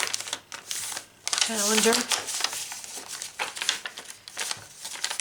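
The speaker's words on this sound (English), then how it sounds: "another envelope I need to cut open" A paper envelope cut open with a blade while a person talks, giving a close, brittle crinkling and rustling of paper that swells for about a second, amid scattered lighter paper handling.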